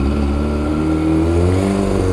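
A Kawasaki ZX25R motorcycle, a four-cylinder 250 cc sportbike fitted with ZX6R bodywork, idles and revs loudly up close while warming up, a dense steady engine drone with slight rises in pitch.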